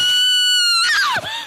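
A woman screams in fright in a loud, sustained high-pitched wail that sweeps and breaks near the end, heard alone without talk.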